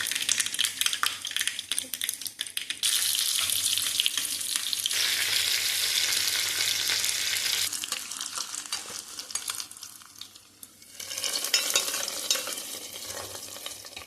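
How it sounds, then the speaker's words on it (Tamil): Onion, curry leaves and mustard seeds sizzle and crackle in hot oil as a village-style chicken kulambu is tempered, a bright hissing fry close to the microphone with occasional stirring clatter, fading briefly near the end before flaring again. "வெங்காயம் போடு, கருவு போடு, கடுகு பொரியட்டும்."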